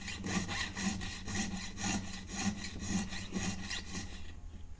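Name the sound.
jeweler's saw cutting metal ring shank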